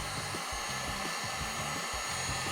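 Hot air from a heat gun or blower shrinks black heat shrink tubing over a soldered wire joint, a steady, loud whooshing roar that holds evenly throughout with no pauses.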